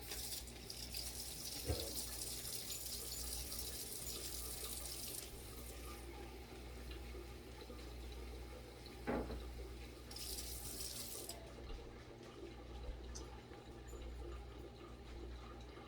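Hot water, a third of a cup, poured into a bag of Chef Boyardee pizza mix, giving a steady close watery pour with a couple of brief knocks and no talking.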